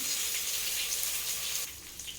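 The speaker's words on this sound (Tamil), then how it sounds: "ஸோ நான் இப்போ வந்து 800 கிராம்ஸ் தண்ணி விடுறேன்." Water poured steadily into a cooking pot while making mutton biryani, a continuous close gushing splash that drops slightly in level near the end.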